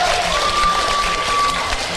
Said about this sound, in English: Round of applause to everyone.